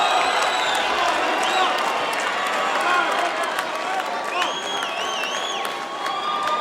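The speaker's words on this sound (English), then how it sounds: "Now the applause there for Eastman." A crowd at a 2007 fight featuring Marvin Eastman applauds and cheers in a steady, far-off roar with scattered whistles, under a commentator's talk.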